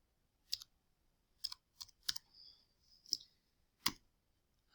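Sharp mouse clicks on buttons in a crypto testnet web interface, six or so isolated clicks spaced irregularly over a few seconds, close and crisp, with a faint tone briefly between them and no talking.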